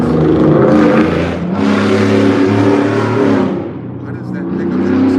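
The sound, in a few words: pickup truck engine revving like a sports car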